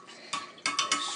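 Kombucha being stirred in a cup, a few quick clinking scrapes of a utensil against the cup, close and quiet.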